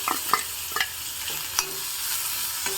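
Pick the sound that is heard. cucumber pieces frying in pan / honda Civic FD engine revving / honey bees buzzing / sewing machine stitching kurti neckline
cucumber pieces frying in pan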